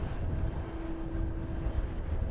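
Aircraft at East Midlands Airport turning onto the apron while taxiing, a steady low engine rumble with a sustained droning tone, close and continuous throughout.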